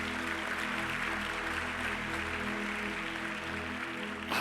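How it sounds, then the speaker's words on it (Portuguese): A church congregation applauding for Jesus during a worship service, a steady wash of clapping that holds evenly before ending abruptly. "Você pode dar um aplauso ao Senhor Jesus"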